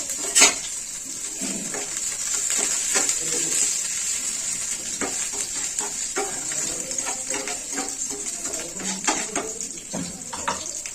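Fresh coriander dropped into hot oil in a pan while preparing methi upma, a soft continuous sizzle with scattered clinks and scrapes of a utensil against the pan, no talking.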